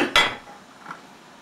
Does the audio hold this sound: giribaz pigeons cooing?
no